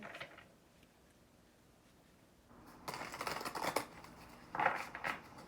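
Tarot cards are shuffled by hand, a soft papery rustle that starts faint and then rises into two busier bursts of riffling and slapping, near and alone with no talking.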